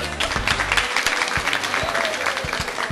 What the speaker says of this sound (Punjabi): ਜ਼ੋਰਦਾਰ ਤਾਲੀਆਂ ਹੋ